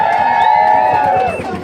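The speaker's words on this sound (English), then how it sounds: "You can hear the cheers." A convention crowd cheers and whoops from a nearby hall, a bright sustained roar of voices with a rising shout that fades slightly at the end.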